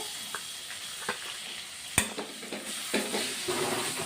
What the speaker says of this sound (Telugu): ఉల్లిపాయలు వేయడానికి ఉప్పు వేసుకుంటున్నా ఉల్లిపాయ వేగిపోయింది